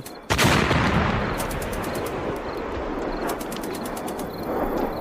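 Loud bursts of rapid gunfire crackle in quick repeated volleys over a constant roaring rumble of blasts, dense and close.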